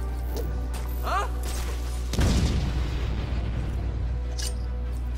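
A grenade goes off in a video game: one heavy, sudden boom with a rumbling tail that fades over a couple of seconds, and a voice is heard nearby.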